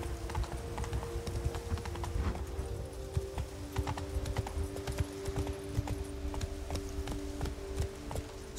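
Roach, a horse in the video game The Witcher 3, gallops with steady rapid hoofbeats on the ground under a low game ambience, with no talking.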